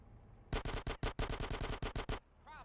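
Gunfire in Grand Theft Auto: San Andreas on PS2: a rapid burst of about a dozen sharp, evenly spaced shots, loud and close, then a brief vocal sound as it stops.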